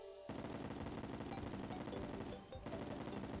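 Rapid automatic fire from a Vortex Beater in a video game, a loud continuous burst of densely packed shots with a brief dip near the end before firing resumes.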